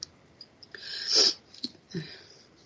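A single sharp sneeze bursts out, fairly close and loud, followed by a couple of small sniffs or throat sounds in a quiet room.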